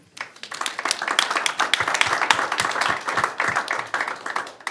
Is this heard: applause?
yes